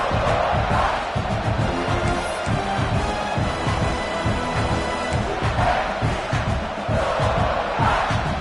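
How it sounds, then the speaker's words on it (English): A huge stadium crowd at a football game roars loudly and continuously, a dense wall of cheering that swells and surges throughout. "Listen to this crowd just shaking the girders of this place, trying to help their defense"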